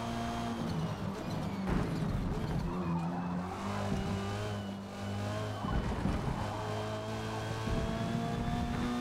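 A touring race car in a sim racing game skids and spins out, tires squealing over a steady engine drone with shifting pitch throughout.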